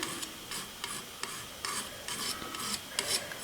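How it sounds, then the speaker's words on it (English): A palette knife scrapes leftover acrylic paint onto a canvas in a series of short, faint rasping strokes separated by brief pauses. "I'm just going to scrape on what's left over my knife there now"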